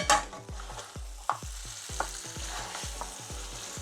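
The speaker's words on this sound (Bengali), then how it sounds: "এটা এখন আমি মিক্স করে দিব" Fried dry chilies are stirred into a dark Chittagong beef curry (kala bhuna), a constant sizzle over a steady run of low thudding spatula strokes about every third of a second.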